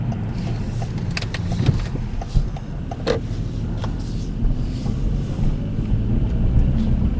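A car drives along with a continuous low engine and road rumble inside the cabin, steady and fairly close, with a few faint clicks and thumps over it and no voices.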